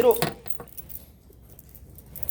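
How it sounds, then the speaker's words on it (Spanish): A bunch of about seven keys jangles and clinks sharply at first, then settles into faint scattered rattles, with a voice present at moments. "¿Cuántas llaves hay aquí? Unas 7."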